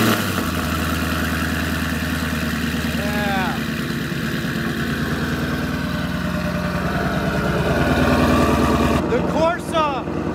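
A 2019 Ford Mustang GT with twin turbos and a Corsa exhaust idles steadily after a cold start in freezing weather outdoors, a loud continuous rumble with a brief surge near the end.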